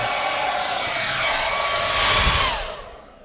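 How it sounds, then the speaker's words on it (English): A hairdryer blows steadily at close range inside a warm Honda Civic Type R EP3 interior during a carbon fibre trim install, a loud even whoosh that swells briefly near the end before tapering off. "have a hairdryer in close proximity"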